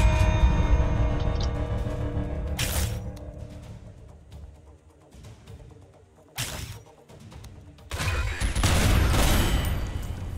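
Video game gunfire from an AN-94 rifle firing in bursts: three loud, sharp volleys separated by quieter stretches, the last lasting longest, with a faint ambient rumble between them.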